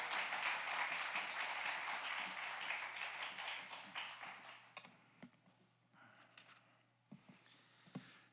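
Congregation clapping and cheering to welcome the pastor at a special dawn prayer service in a church, a loud, dense burst of applause that thins out over several seconds into scattered claps and small knocks.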